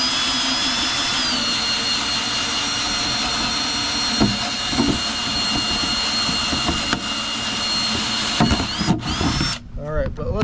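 A power drill bores a hole into a pond bank to track down a leak, its steady mechanical whine running close and unbroken for about ten seconds before shifting and breaking up near the end.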